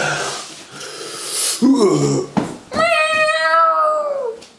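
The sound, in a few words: person imitating a cat meow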